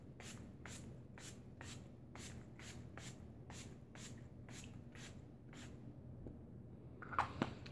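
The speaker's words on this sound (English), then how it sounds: "I'm going to take my Hard Candy Fast and Fabulous Makeup Setting Spray and just spray my face down." Hard Candy Fast and Fabulous makeup setting spray misted onto a face: about a dozen short, evenly spaced hissing spritzes, quiet and close, fading out near the end over low room noise.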